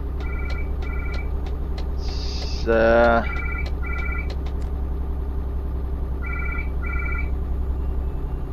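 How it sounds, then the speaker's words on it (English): A house telephone rings in the repeated double-burst pattern of a landline, moderately loud against a steady low engine-like hum, with a voice briefly talking midway. "There's the house phone ringing."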